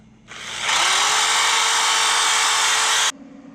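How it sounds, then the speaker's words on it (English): A power sander whirs on abruptly against car body metal, holds a loud steady high-pitched grinding buzz for about three seconds, then cuts off. "Now I'm sanding down the spot where I'm gonna be welding the bracket back in."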